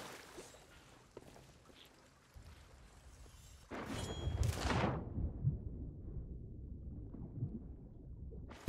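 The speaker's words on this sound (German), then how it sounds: "Na, es kommt ein Unwetter." A thunderstorm in the pirate video game Sea of Thieves brings a sudden, loud rolling thunderclap that booms up midway and fades into a low rumble over quiet ambience.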